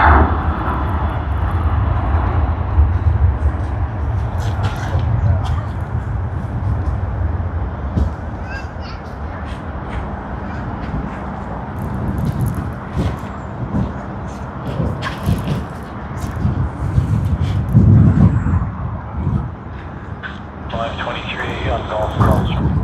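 A fixed-wing airliner's engines roar at Sydney Airport as it departs, a broad sustained rumble swelling and fading, with a person speaking over the noise.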